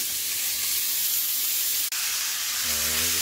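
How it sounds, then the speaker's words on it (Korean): Sour kimchi stir-frying in a pan with olive oil and scallion oil, vegetables and tuna, giving a steady close sizzle and hiss with one brief dropout, and a low humming tone entering near the end. "신김치를 넣고 볶아줍니다."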